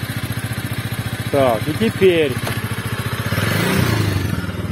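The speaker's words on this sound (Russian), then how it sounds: "теперь заводи машину, мотор" A Bajaj Avenger 220 Cruise motorcycle engine idles with a steady low pulsing throb, close by, while people talk over it in Russian.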